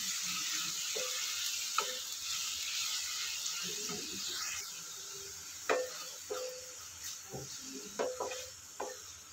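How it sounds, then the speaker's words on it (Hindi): Chicken and onions fry in a pan over a medium flame, giving a steady soft sizzle, with occasional clinks and stirring scrapes. "पाँच से छः मिनट के लिए इसको भी हम मीडियम फ्लेम पे फ्राई कर लेंगे प्याज के साथ"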